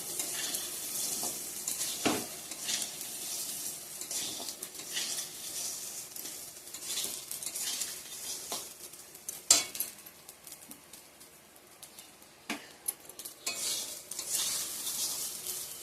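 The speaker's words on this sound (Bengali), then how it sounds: "এখন চালটা দিয়ে দেব। এটা এখন একটু ভালো করে ভেজে নিব।" Rice for pulao fries in a pan with a steady low sizzle while a spoon scrapes and clinks against the metal in irregular strokes, close up and without any talking.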